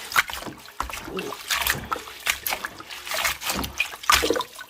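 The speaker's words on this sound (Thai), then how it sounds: "เราก็จะล้าง ให้สะอาดนะคะ เราล้างไปแล้วหนึ่งรอบเนาะ อันนี้รอบสอง" Curly kale is rinsed by hand in water, producing close, irregular sloshing, trickling and splashing bursts as the leaves are swirled and lifted.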